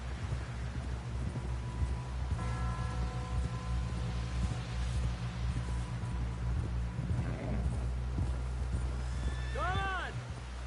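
Horse hooves galloping in Red Dead Redemption 2, a steady rhythmic clip-clop under a constant low rumble, with voices talking over it and a brief high whinny-like call near the end.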